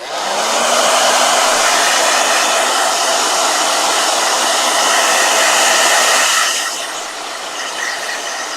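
A blow dryer roars in a loud, steady hiss for about six seconds, then is switched down to a quieter, lower setting.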